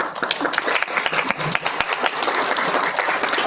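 Audience applause at a community forum on the future of San Antonio children, a steady wash of many hands clapping at close range with no talking.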